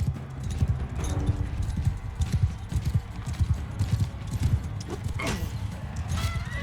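Horse hooves gallop in rapid, regular clip-clop beats in Mount & Blade II Bannerlord, close and loud, with faint battle noise and brief sharp hits mixed in.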